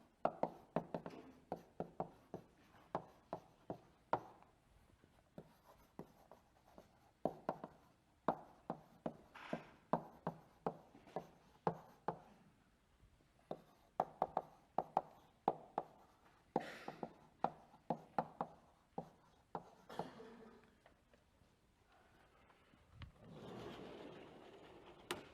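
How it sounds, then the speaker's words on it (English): Marker or chalk strokes on a lecture board while a picture is drawn, heard as quiet sharp taps and short scrapes arriving in irregular bursts, with no talking. "Let me draw a picture of that."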